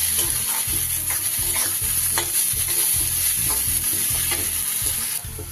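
Onions with salt frying in oil, a loud continuous sizzle with rhythmic scraping from a spoon stirring against the pan, close up.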